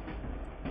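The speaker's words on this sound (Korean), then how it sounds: "지하철 소리" A subway train rumbles steadily past at close range, a dense, continuous roar of wheels and carriage noise that holds level throughout with no voices over it.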